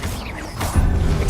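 Confringo spell cast in the Hogwarts Legacy video game, near statues: a dense, crackling magical burst that swells suddenly midway and rumbles on, loud and close, with no talking.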